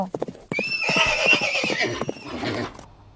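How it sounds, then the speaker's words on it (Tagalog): A horse whinnies loudly and close for a couple of seconds, with quick clip-clopping hoof steps before and through the neigh, then stops abruptly. "Panahon na para bumili tayo ng kabayo."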